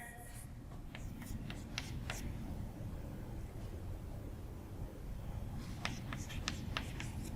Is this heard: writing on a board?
yes